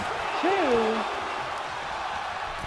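Packed capacity crowd at an AWL Strong & Free 78 pro wrestling show, a loud, steady roar of massed voices filling the arena, with a brief higher shout rising out of it early on.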